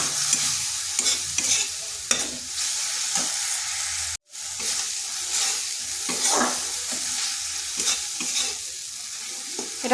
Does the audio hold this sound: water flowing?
no